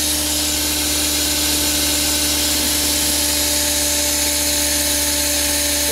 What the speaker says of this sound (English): I hear the compressor going